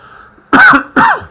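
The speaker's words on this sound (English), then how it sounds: "Excuse me, I need to cough." Two loud, close coughs in quick succession from a man during a gentle yoga session, each a sharp burst trailing into a brief throaty rasp, with quiet room tone between them.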